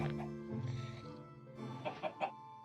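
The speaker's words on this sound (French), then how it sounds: "J'ai tué la poule. J'ai one-shoté la poule." Chicken clucking in a survival video game, several short, soft, close clucks over a faint steady game background, with no talk.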